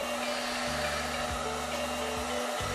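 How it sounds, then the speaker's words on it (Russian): Hair dryer blowing steadily while drying a shelter dog after a bath, a loud, continuous motor whine and rush of air close by that dips in pitch a few times as the setting shifts. "Так, высушите собаку с помощью фена."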